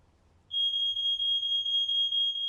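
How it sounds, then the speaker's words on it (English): Fire alarm going off in a movie scene, a loud piercing continuous electronic tone that cuts in abruptly after a quiet moment and holds steady with a slight pulsing. "they wrote in this fire alarm"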